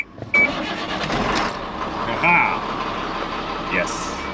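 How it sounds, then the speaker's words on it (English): A tow truck's engine cranks and catches, settling into a steady running rumble, close up and moderately loud, with brief metallic whines over the noise. "starting the engine"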